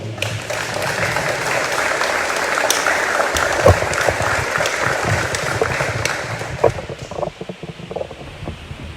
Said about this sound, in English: So let's give a round of applause to them.